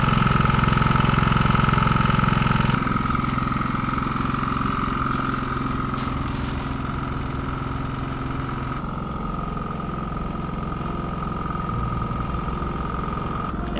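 Exhaust of an inverter generator running at close range from behind the unit, a continuous engine drone that drops slightly in level and shifts tone a few times as the listening position changes, with no talking.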